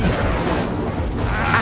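The Incendio fire spell cast in the video game Hogwarts Legacy, a loud, dense burst of roaring flame and crackling noise that holds steadily for a second and a half.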